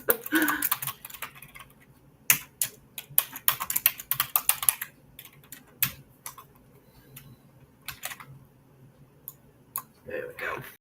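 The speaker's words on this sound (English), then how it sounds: "Let me just move my keyboard." A computer keyboard is shifted and typed on close by, with scattered clicks, a dense run of rapid keystrokes, then sparser taps and pauses, and a voice speaks briefly at the start and end.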